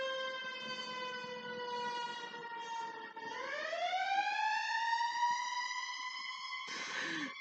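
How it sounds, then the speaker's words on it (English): A wailing siren holds a steady tone, dips, then rises and sustains, sounding moderately distant with no voices. "Did you hear that siren?"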